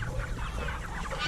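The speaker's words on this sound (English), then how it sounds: "You can see they're pretty big chickens now." Large pasture-raised meat chickens cluck and murmur together in a dense, continuous flock chatter, close and steady throughout with no talking over it.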